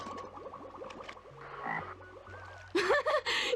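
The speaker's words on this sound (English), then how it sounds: "A frog!" A cartoonish frog croaks in the Legend of Mulan video game, several quick bursts amid other game sound effects, ending in a louder burst of croaks near the finish.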